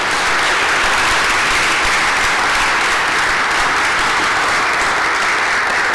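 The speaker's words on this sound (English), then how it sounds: "shall we give a clap and honor them as well?" A church congregation claps together, a thick, continuous burst of applause that stays loud and even from start to finish with no talk over it.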